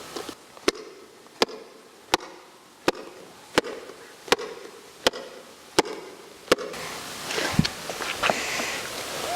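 A wine bottle held in a shoe is banged against a wall: about nine sharp, regular knocks roughly a second apart, followed by a louder burst of clatter and room noise.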